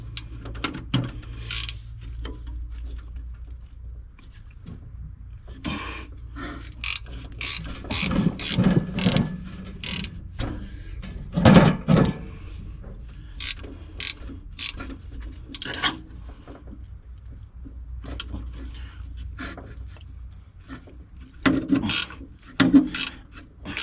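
A spanner clicks and ratchets in short irregular bursts against a seized blade bolt on a ride-on mower, close and metallic, with quiet gaps between the efforts.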